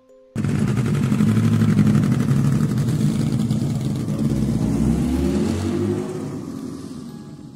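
A motorcycle engine roars steadily for several seconds, rumbling and revving low, then eases off and fades slightly toward the end.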